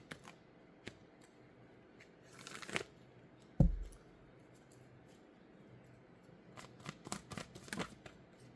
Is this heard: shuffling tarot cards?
yes